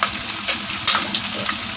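Braised pork feet simmering in a pan for Chinese-style adobo, a loud close sizzle with bubbling pops and crackles throughout.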